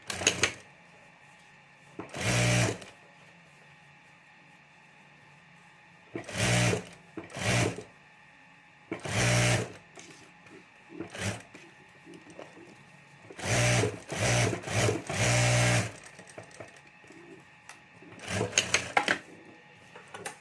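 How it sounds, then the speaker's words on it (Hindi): Sewing machine stitching down a folded fabric strip with lining and rubber sheet, running in several short whirring bursts separated by quiet pauses, close and clear, with no voices. "और अब यहाँ ऊपर हमें सिलाई कर देनी है।"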